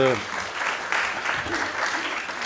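Audience applause fills a French talk-show studio, a dense, steady wash of many hands clapping at moderate loudness with a brief voice at the very start.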